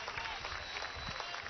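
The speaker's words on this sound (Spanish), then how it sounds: "¡Un aplauso!" Crowd applause at a socialist missions march received by Venezuela's president, a steady broadband wash of clapping from many people lasting the whole moment, moderately distant and even in level.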